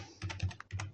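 Rapid typing on a computer keyboard, with a quick run of close, distinct key clicks followed by a short pause and then a second burst, heard alone without any voice.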